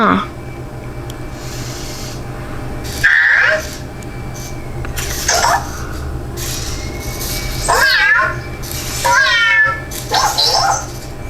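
A small Cozmo toy robot plays a synthesized cat meow, giving a couple of wavering, electronic-sounding meows close by over a steady background hum with a few short noises in between.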